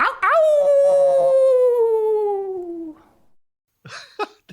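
A person imitates a wolf howl with one long, loud sliding wail that falls gradually in pitch, followed by a brief silence and then speech.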